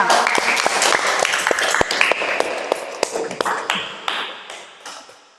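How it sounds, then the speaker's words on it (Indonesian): A classroom claps for a student group, scattered sharp handclaps in a loose, uneven rhythm that thin out and fade toward the end, close and fairly loud. "Ya, aplaus dulu untuk kelompok 2."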